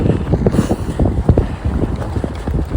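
Gusty wind buffets the microphone beside the Lancaster Canal, a steady low rumble with irregular bursts and thumps throughout, continuous and close with no voices.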